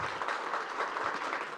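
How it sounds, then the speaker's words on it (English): Brief burst of dense applause from a conference audience welcoming a chief minister to the stage at a business summit, steady clapping with no voices over it. "Bigger round of applause."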